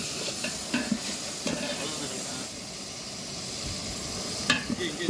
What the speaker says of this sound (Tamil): கொஞ்ச நேரம் ஃப்ரை ஆகட்டும்.